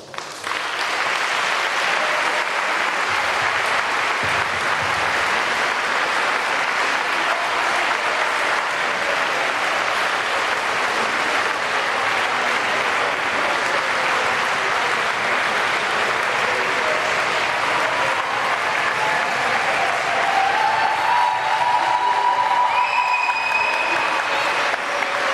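Children's football camp crowd in a sports hall applauding, a dense, even wash of clapping that holds steady for about twenty-five seconds, with faint tonal sounds near the end.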